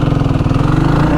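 An engine idles at about 1400 rpm on a running cold mixture in a rusty project car, a loud close steady throb with a regular pulsing rhythm.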